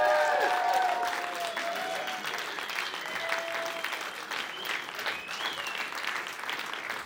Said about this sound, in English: Give me a round of applause for Lily.